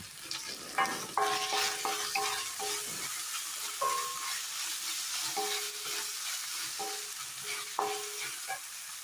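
Chopped onion and a tablespoon of crushed garlic sizzle steadily in a hot pan, with repeated clinks and scrapes of a spoon stirring against the metal. No one speaks.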